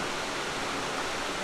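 Root Falls, a waterfall on a creek, pours in a constant broadband rush, close and steady without a break and with no voices over it.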